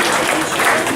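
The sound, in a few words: audience applause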